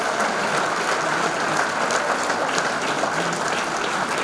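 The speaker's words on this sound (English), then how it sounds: "how about a big round of applause for our host venue here at Stony Creek Hotel and Conference Center" An audience at a sports hall of fame ceremony at Stony Creek Hotel and Conference Center applauds the host venue, a dense, steady wash of clapping from a large room, loud and continuous throughout.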